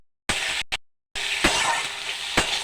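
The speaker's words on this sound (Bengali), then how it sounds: "পেঁয়াজটা লাল লাল করে ভেজে নেব বন্ধুরা" Onions fry in hot oil with panch phoron, a bright crackling sizzle that cuts out twice near the start, then resumes steadily with a few sharp stirring clatters, no talking.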